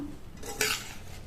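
A brief scrape of a spoon against a pot as a cabbage dish is stirred, quiet and close, with one slightly louder stroke.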